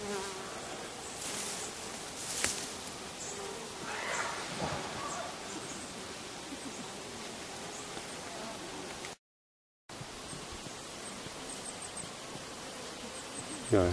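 Wasps buzz steadily around their nest, a continuous insect drone with brief louder passes close by, a short gap of silence and quiet voices near the end.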